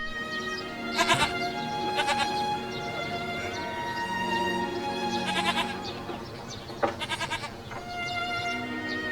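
Goats on a farm bleat repeatedly in loud, wavering calls, several voices overlapping in bursts against a steady background of animal noise.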